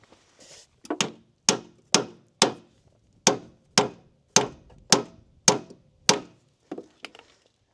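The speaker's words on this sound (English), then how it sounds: "You just hammer it in." A part is hammered into a Vermeer S800TX mini skid steer: about ten sharp, close strikes land in a steady rhythm, each a crisp hard impact with a short decay, and no one speaks.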